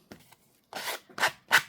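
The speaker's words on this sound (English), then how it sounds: "I'm just going to go around and lightly sand these down a little bit" A sanding block lightly rubs along the edges of paper game cards, giving three short, close, dry scraping strokes after a few faint handling sounds.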